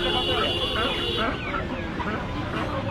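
Native Bangladeshi chickens cluck and squawk at a noisy open-air village market in Bangladesh, mixed with crowd chatter and people talking nearby.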